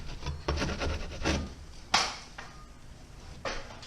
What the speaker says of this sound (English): we got it scraped